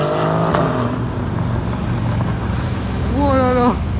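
A Mercedes C63 AMG estate car engine rumbles nearby in a street of supercars in Grenoble, a steady low growl that swells into a rising rev near the end.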